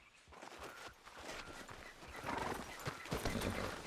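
Horse hooves clip-clopping at a steady walking pace in the Red Dead Redemption video game, close and fairly loud, with a brief whinny mixed in.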